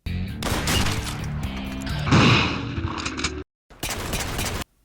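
Gunfire in a Resident Evil video game: a dense burst of loud shots and impacts with a heavy crash near the middle, then a brief silent gap and one more short burst of noisy action.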